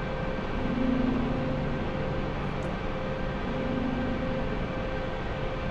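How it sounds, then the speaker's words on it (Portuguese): AH-64D Apache helicopter engines spooling up in the DCS combat flight simulator, a steady loud broadband turbine roar with a faint tonal whine layered over it, continuous throughout with no talking. "Ok, vamos subir a potência do, dos motores."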